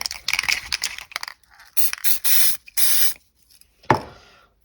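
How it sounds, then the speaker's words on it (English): Spray grease is applied to the anti-rattle spring of a rear brake caliper on a 2001 Kawasaki ZX6R J2, heard as several short, close hissing bursts with gaps between them. "Let's put a little bit of grease on the back of this anti-rattle spring."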